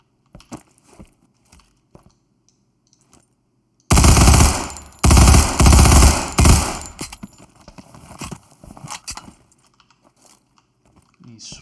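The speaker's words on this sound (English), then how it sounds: "You can see the different guns that it comes with." Rapid bursts of gunfire from assorted game weapons in a paid first-person game asset demo, loud and close, starting after a few faint clicks, with sustained automatic fire followed by sparser shots and clatter.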